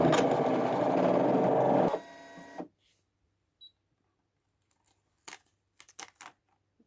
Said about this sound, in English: I'm just going to run it through again and make sure we get a beautiful clean cut on each